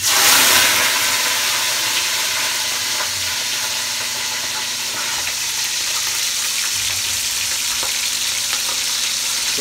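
Marinated chicken frying in a pan until golden brown, a loud steady sizzle and crackle that holds from start to finish with no talk.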